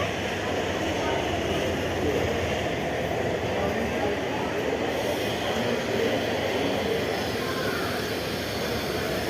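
The Madhumati train at Kamalapur railway station gives a continuous, loud rumble mixed with dense crowd murmur across the busy platform, with no distinct horn or single event standing out.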